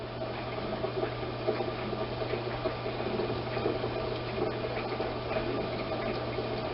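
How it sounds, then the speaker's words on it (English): Ice cold water running through a wort chiller cooling a Coopers wheat beer brew: a steady, even rush of flowing water with a constant low hum underneath, moderately loud and unbroken, no talking. "ice cold water run through there."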